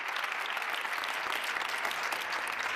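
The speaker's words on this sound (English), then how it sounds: "Give Nathan Monell a big round of applause for his leadership" Steady applause from a conference audience at a plenary speech, a dense sustained clapping crowd filling the room at moderate volume.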